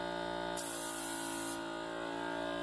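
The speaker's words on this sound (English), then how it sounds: "Compressor has no auto-stop function and it is running constantly all the time." A cheap airbrush kit compressor with no auto-stop runs as a steady, close mechanical drone, and for about a second a hissing burst of spraying air rises over it before the hum carries on alone.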